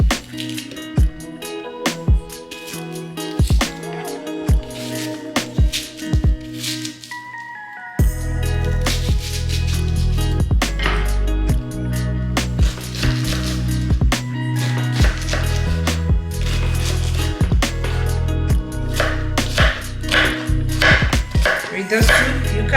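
A knife chops a large onion for a Ghanaian goat and sheep meat light soup, giving sharp, irregular knocks against a board, sometimes in quick runs, over a steady background hum and intermittent talking.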